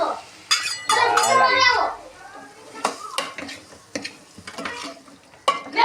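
Chickpea curry stirred in a cooking pot, with clattering spoon scrapes and metallic knocks against the vessel, close and fairly loud, while people talk and a voice is heard over it.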